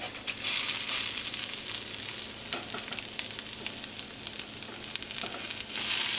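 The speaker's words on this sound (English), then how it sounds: "you know it's ready to grill once you hear that sizzling noise" Chicken kebab pieces sizzle in a hot pan, a loud, continuous hiss and crackle with occasional pops that stays steady throughout.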